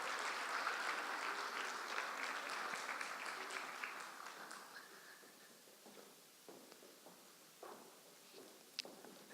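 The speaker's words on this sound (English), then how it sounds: "I think another round of applause is in order." Applause from the audience at a CEO summit session on growth, inclusion and women empowerment, loud and dense at first, then thinning to scattered claps and fading over about nine seconds.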